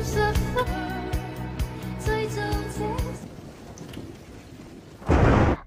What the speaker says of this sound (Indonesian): ketika pada suatu malam Boksil kembali trauma karena derasnya hujan petir